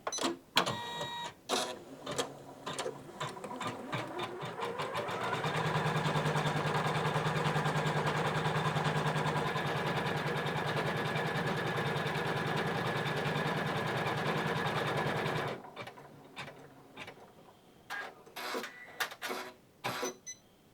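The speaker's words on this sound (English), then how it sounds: "Now I'm ready to stitch this out. I'm going to press my start stop button." A Janome embroidery sewing machine stitches out a built-in design: a steady, close mechanical whir with a rapid rhythmic needle chatter for about ten seconds, framed by clicking and tapping before and after.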